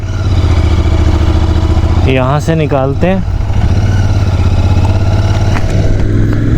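A Royal Enfield Interceptor 650 motorcycle engine idles loudly and steadily throughout as the bike sets off, with someone speaking briefly over the running engine.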